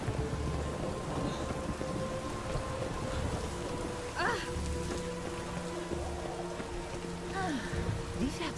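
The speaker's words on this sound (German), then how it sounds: "Ein Sturm." Steady rain hisses through a stormy scene in The Witcher 3, with a few soft rumbles of thunder and faint game sounds woven in, while voices murmur in the background.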